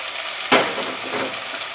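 Spinach (palak) paste with green chilies hits a hot pan for palak paneer, giving a sudden sharp sizzle that settles into a steady soft frying hiss.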